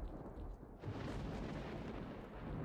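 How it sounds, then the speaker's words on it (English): A grenade explodes in S.T.A.L.K.E.R.: Call of Pripyat, a dense, rumbling low boom that swells and lingers for a couple of seconds at moderate loudness. "Have you heard that grenade?"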